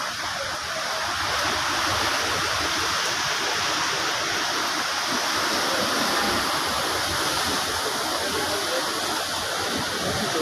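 River water rushes and flows in a steady, close, broadband wash that continues unbroken with no voices over it.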